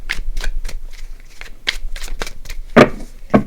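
Oversized tarot cards shuffled by hand in a quiet room, with a rapid run of close, papery riffling bursts that swell into two louder snaps near the end.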